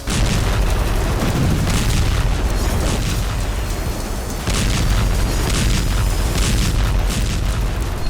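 Heavy explosions from tank shelling and guided missile strikes in Gaza, a dense, continuous roar of booms and blasts running loud throughout with no pause.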